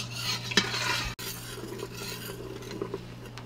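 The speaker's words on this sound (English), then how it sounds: "my water's boiling" Water and gravy bubbling in a pot on the stove while a spoon stirs, with scraping and clinks against the pot over a steady simmer, close and fairly quiet.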